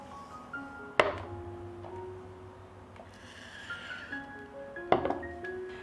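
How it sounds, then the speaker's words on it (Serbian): Glass jars are lifted out of a cooking pot after three hours of boiling, giving two sharp, separated clunks with a ringing glassy tone over a quiet background. "I evo nakon 3 sata kuvanja izvadit ću tegle iz šerpe"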